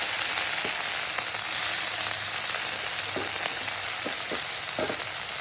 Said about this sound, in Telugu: ఇలా మునగాకు నేను ఫ్రై చేస్తున్నానండి